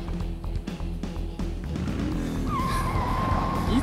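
A motorbike races in a pursuit in the video game Shenmue, its engine a loud, steady close drone that climbs into a rising whine toward the end.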